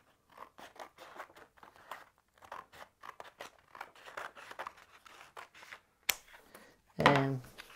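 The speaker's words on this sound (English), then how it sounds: "Grab your scissors and cut" Scissors snipping through card while building a slider mechanism, a single sharp cut near the end after a stretch of soft handling and crinkling sounds.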